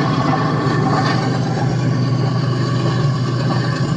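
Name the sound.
diesel locomotive engine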